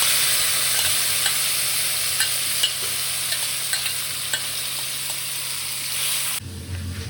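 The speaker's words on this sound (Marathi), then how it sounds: "फोडणीमध्येच शिजलेले आंबे टाकून घ्यायचे." Cooked raw mango pieces sizzle and fry steadily in a hot tempering with asafoetida and turmeric, stirred with soft intermittent scrapes and clicks, close and continuous until the sizzle drops away near the end.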